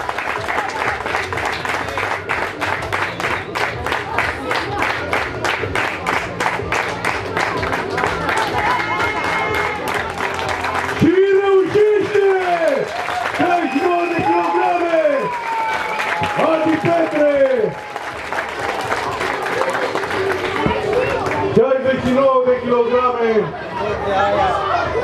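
An outdoor village crowd in Lipănești, Prahova applauds in dense, sustained clapping, with chatter and a voice speaking over it partway through.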